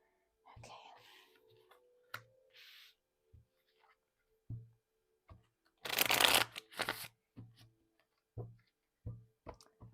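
Tarot cards shuffled by hand in short riffling bursts, with soft taps and card handling sounds between them and a quiet whispering voice early on, close and intimate.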